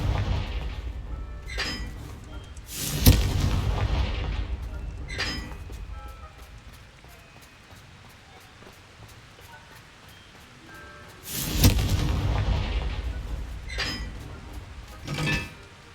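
Confringo blasting spell going off in a Harry Potter video game: several booming blasts, the largest two near the start and about two-thirds through, each with a rumbling tail, separated by quieter stretches.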